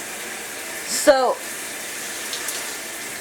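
An ECO WATER shower head runs at full blast, giving a steady, even hiss of spraying water throughout, with a brief spoken word near the start.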